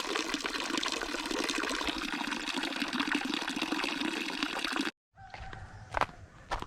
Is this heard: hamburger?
no